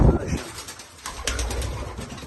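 Pigeons in a backyard coop of Spanish posta birds coo in soft, throaty, repeated notes close by, with a voice talking over them.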